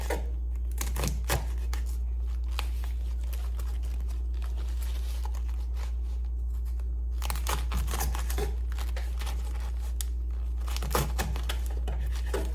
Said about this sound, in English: I particularly cut them in small sizes so the greens won't be too big